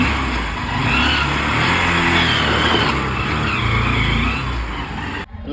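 A car pulls away with its engine revving and tires squealing in a loud, close burst that fades as it goes, then cuts off abruptly near the end.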